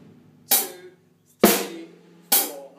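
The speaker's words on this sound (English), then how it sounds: "we get our first basic drum beat, rock groove," Basic rock groove on a drum kit with bass drum, snare and hi-hat, heard as three loud, evenly spaced hits with short decays, played close and clear without any talking.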